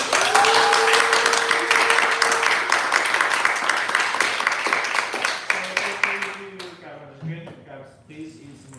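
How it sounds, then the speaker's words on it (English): Audience applause for Lydia at a Kikashima showcase event, dense clapping at first that thins and fades toward the end while voices begin talking over it. "one more round of applause for Lydia"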